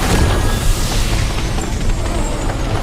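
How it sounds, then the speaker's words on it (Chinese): A sustained, dense roar of an explosion blasting open a pile of rocks in an animated fantasy series, loud and broadband, rumbling continuously for a few seconds without distinct separate bangs. "得在兽潮到达之前轰开这堆乱石。"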